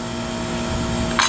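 A power tool whines steadily and loudly while cutting a metal alternator bracket, a close continuous mechanical drone with a short hissing burst at the end.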